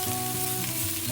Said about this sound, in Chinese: 倒入切好的五花肉